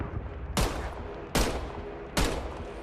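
Three loud gunshots, evenly spaced a little under a second apart, ring out in a video game shootout over a low background rumble, with no talk.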